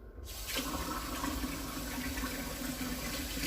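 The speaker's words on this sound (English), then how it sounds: "when you're adding more water, just make sure it's warm" Warm water poured from a tap or jug into sandwich slider roll dough in a home kitchen, a steady close splashing pour that starts after a brief quiet moment and runs continuously without talk.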